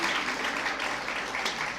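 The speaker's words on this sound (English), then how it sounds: "You can give yourself a round of applause" Students applauding at a life sciences conference, a continuous, even roar of clapping from a large hall audience, steady and moderately loud across the whole stretch.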